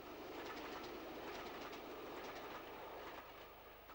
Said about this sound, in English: 73029 rushes towards London with an extremely mixed rake of coaches